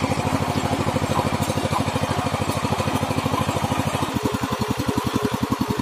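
A tractor engine idles in a steady, rapid thumping rhythm while it is being washed near a river. The close, loud chugging roughens slightly toward the end, with no talk.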